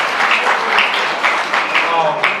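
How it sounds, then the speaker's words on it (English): Applause from a crowd at an Indian college inauguration in Kerala, close and lively, with voices talking over the clapping. "let's give him a round of applause"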